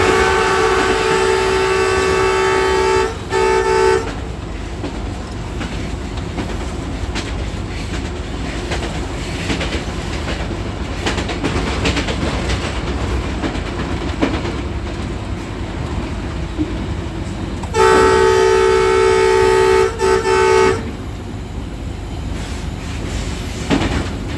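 The Green Line train between Rawalpindi and Lahore, Pakistan, rumbles steadily at speed with a loud, continuous rolling roar, and a sustained tonal hum rises near the start and again later.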